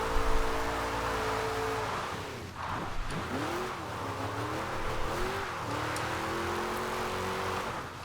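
A 700-horsepower offroad Charger roars in Forza Horizon 2, its engine note holding steady, then dipping and rising through several rev changes as the car drives on, loud and close.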